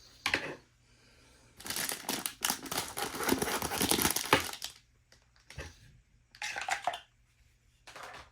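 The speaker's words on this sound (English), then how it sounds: "Let's get the plastic off of this and see what we have inside." Plastic wrapping is torn and crinkled off a French RCIR field ration box in close, irregular bursts of rustling and crackling, with quiet gaps between handfuls.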